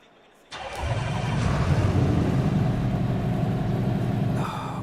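A race car engine in the racing game Assetto Corsa Competizione fires up after a quiet start and settles into a loud, steady, buzzy rumble that holds to the end.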